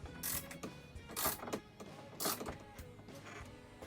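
A skid plate fastener on a Volkswagen Alltrack is tightened, giving faint, quiet mechanical ratcheting with a few brief louder clicks in an irregular rhythm.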